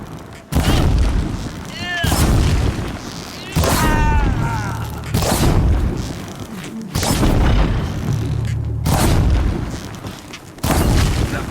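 Booming gunfire and heavy impacts in the Horizon Zero Dawn video game, several loud bursts separated by brief gaps, with game voices and music-like tones in between.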